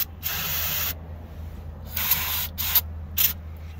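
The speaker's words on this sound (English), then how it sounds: "I'm gonna just open the throttle body here and shoot in a little brake clean." Brake cleaner is sprayed into the open throttle body of a 1986 Airstream motorhome barn find, heard as four sharp aerosol hisses of varying length, loud and close, separated by short pauses.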